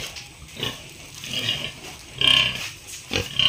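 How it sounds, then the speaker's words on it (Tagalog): Several Duroc pigs grunt and snort close by in uneven bursts, with a couple of louder squealing grunts toward the end. "Maganda yung mga baboy na ito."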